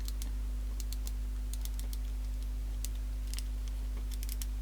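Small dry clicks and ticks in quick irregular bursts from a rusty Clarion car cassette deck mechanism, over a constant low mains hum, faint and close.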